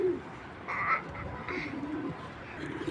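Imported racer pigeons give low throaty coos up close, several rolling calls spread across a few seconds in a quiet loft.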